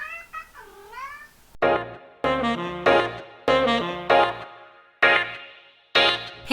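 A pet cat meows indoors, a drawn-out wavering cry up close, followed by a string of loud, abrupt bursts at roughly regular intervals.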